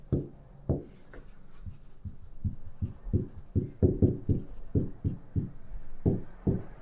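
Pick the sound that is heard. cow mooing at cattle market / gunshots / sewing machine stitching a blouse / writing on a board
writing on a board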